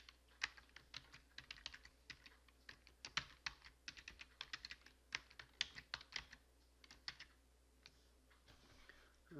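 Text is typed on a computer keyboard in an irregular run of light, crisp key clicks, close but fairly quiet over a faint steady hum.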